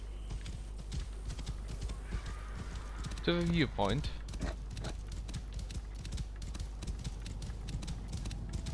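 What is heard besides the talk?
horse hooves clip-clopping in Assassin's Creed Origins video game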